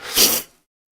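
A single short, breathy sneeze, close and sharp, cutting off quickly into silence.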